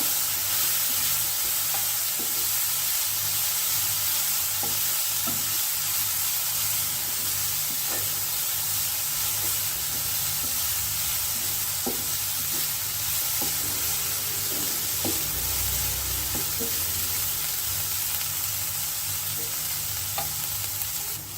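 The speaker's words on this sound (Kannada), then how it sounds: "ಸ್ಟವ್ನ ಮೀಡಿಯಮ್ ಫ್ಲೇಮಲ್ಲಿ ಇಟ್ಬಿಟ್ಟು ಹೀಗೆ ಆವಾಗವಾಗ ಸೌಟ್ ಆಡಿಸ್ತಾ ಇರಬೇಕಾಗತ್ತೆ" A Havyaka-style dish fries steadily in a pan on a medium flame, with a continuous close sizzle and occasional scraping clinks as a ladle stirs it.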